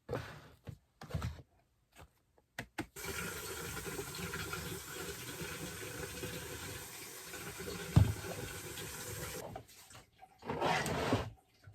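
Water is poured and sprayed onto a seedling grow kit, a steady sustained trickle running for several seconds between quieter handling noises and brief knocks.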